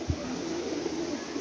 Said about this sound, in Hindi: ए देखो कबूतर,